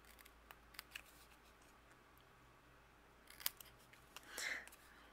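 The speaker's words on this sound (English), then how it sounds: "we're going to go ahead and use our scissors" Scissors snipping cardstock to fishtail the end of a strip for handmade winter cards, a few sparse, quiet cuts at close range followed by a slightly longer cut near the end.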